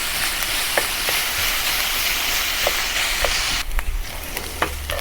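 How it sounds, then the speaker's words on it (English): Onions sauteing over medium heat for a beef masala curry, a continuous dense sizzle close by, with a few faint utensil clicks and stirring scrapes now and then. "Saute the onion for a few minutes over medium heat until the onions"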